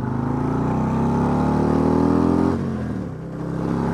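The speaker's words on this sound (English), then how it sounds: "I'm gonna go over here because traffic is flying." A loud vehicle roars past close by, its engine pitch sliding downward as it goes, followed by a quieter rumble of more traffic.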